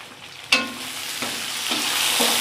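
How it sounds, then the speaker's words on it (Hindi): Vegetables sizzle loudly in a hot pan for a restaurant-style mixed vegetable dish, with an initial burst of frying as they hit the oil and a steady crackle punctuated by a few stirring scrapes. "सिर्फ 3 मिनट के लिए इसको भी मैं फ्राई कर लूँगी"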